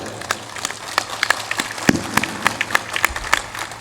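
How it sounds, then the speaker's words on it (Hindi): Audience clapping during a Hindi religious discourse, a loose scattering of sharp hand claps that comes and goes, irregular and moderately loud with no voices over it. "जोरदार ताली बजाया करो"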